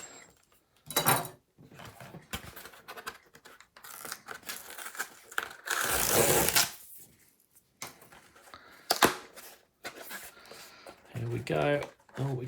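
A small knife slicing and tearing into a CEX package: scratchy cutting and ripping bursts, with one longer loud rip in the middle, broken by brief pauses and quiet talk.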